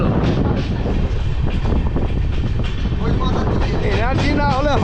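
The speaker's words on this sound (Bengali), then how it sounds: "বেরিয়ে গেল তার নিজস্ব স্টাইলে, অর্থাৎ সুপারফাস্ট ট্রেন" Tebhaga Express superfast train with new LHB coaches rushing past, a loud close roar of wheels and rushing air with clattering, wind buffeting the microphone and a rising whine near the end.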